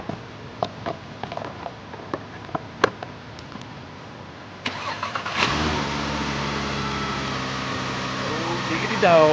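A 2007 Volkswagen Rabbit with a CBTA engine in a workshop: faint clicks and taps, then the starter cranks and the engine catches, settling into a steady, fairly loud idle with a slight rev at the end.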